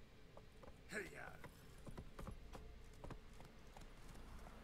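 Hooves of the horse Roach in the video game The Witcher 3 clip-clopping at a walk, a steady series of close, soft hoofbeats, with a voice speaking briefly over them.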